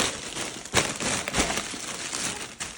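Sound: plastic bag crinkling during grocery unpacking

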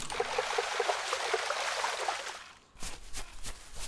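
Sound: water being collected in video game Travellers Rest

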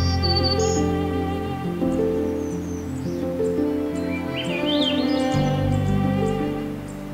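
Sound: Swainson's thrushes and myrtle warblers singing

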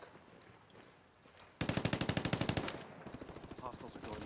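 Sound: gunfire in a video game

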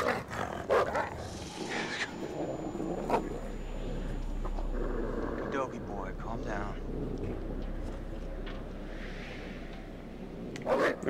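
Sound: dog barking and growling in the video game Until Dawn

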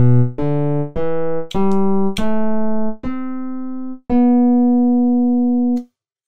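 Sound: synthesized acoustic piano patch

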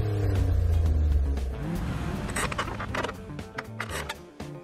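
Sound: car engine revving while accelerating

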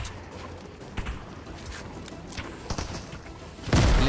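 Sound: burst rifle gunfire in Fortnite video game

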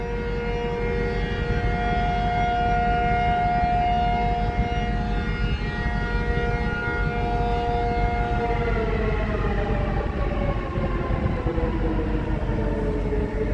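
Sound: civil defense air raid siren, Wan An drill

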